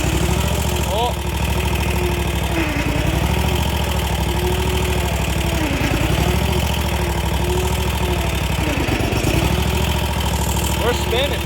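A Dodge truck stuck in place revs its engine repeatedly as the wheels spin, the close, loud motor rising and dipping in several surges over a constant rumble, with a voice heard briefly.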